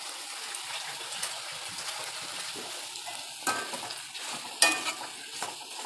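Curry leaves and coriander sautéing in a pan for a fennel seed chutney, a steady close sizzle with scraping stir strokes and a couple of sharper spatula knocks, no talking.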